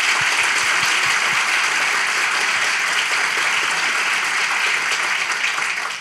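A studio audience at a Turkish comedy relationship-test show gives loud, dense, sustained applause that holds evenly from start to finish.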